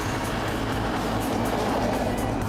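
A car engine boosted to over 500 horsepower revs with a deep, rough rumble. The sound is loud and continuous, with a voice faintly present under it.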